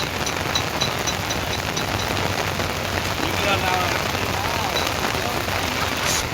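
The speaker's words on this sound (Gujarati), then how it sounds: "કેવો વરસાદ આવે બધા." First monsoon rain pours steadily in a village in Gujarat, a dense continuous hiss of heavy drops on surfaces, with faint voices in the background.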